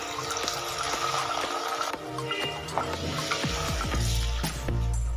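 A little water is poured into a pan of rohu fish curry, giving a continuous splashing, gurgling flow over a bubbling simmer with a few clinks.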